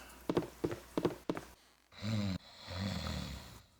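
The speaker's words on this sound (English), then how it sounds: "This guy's snoring at us." A character snoring in Baldur's Gate Enhanced Edition: a few short breathy bursts, then two longer, louder rasping snore breaths close up.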